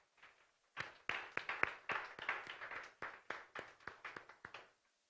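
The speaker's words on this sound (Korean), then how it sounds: "우리 박수로 격려해 주십니다" Congregation in a church giving a short round of applause after a healing prayer, a few scattered claps at first, then a brief burst of close, uneven clapping that quickly thins out.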